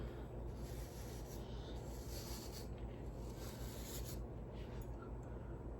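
A hairbrush sweeping hair upward in short, soft, continuous rubbing strokes, faint and close, with a steady background hiss and no talking.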